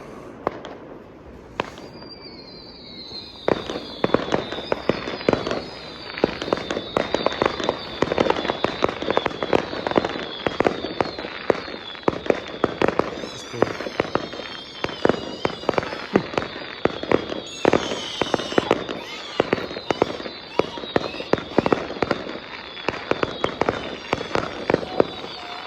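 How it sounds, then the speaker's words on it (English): A firework cake of shot tubes goes off on Bonfire Night in a long, dense barrage of loud crackling bangs and whistling rising shots, fired in rapid succession for over twenty seconds with no talking. "We're doing a shot tube, guys."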